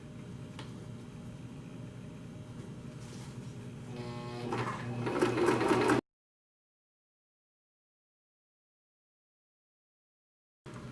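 A sewing machine stitches the seam of a pleated fabric face mask with ribbon ties, a steady mechanical whir that speeds up briefly before cutting off into silence, with a short burst returning at the very end.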